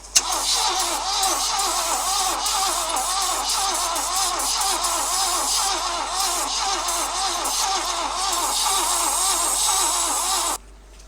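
An old Ford F-250 pickup truck engine cranks over with a rapid rhythmic churning for about ten seconds, loud and close, then cuts off abruptly.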